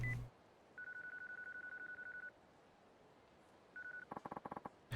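Telephone keypad dialing in the video game Yakuza 3, with a run of quick evenly spaced tone beeps, a short pause, then a few more beeps and a rapid final burst, clear and isolated.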